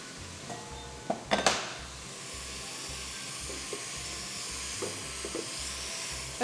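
Food sizzles softly in a kitchen pan as it is stirred, a steady low frying hiss broken by a few sharp clinks of a utensil against the pan.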